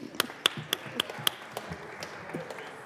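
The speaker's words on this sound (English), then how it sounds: "I think that deserves a round of applause to me" A handful of sharp, spaced claps ring out in the Colorado Senate chamber, a brief and sparse round of applause that thins out within a few seconds.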